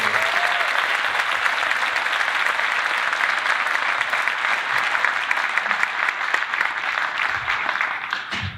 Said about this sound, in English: Can we please give a round of applause for them?